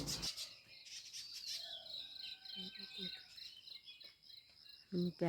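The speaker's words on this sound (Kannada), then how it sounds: "ಪಕ್ಷಿಗಳದ್ದು ಮತ್ತು ಕೋಗಿಲೆಗಳೆಲ್ಲ ತುಂಬ ಇದೆ ಇಲ್ಲಿ" Birds and cuckoos chirp and tweet in high, repeated calls in a Malnad village in Karnataka, against a steady insect-like drone, with brief low bursts of activity near the end.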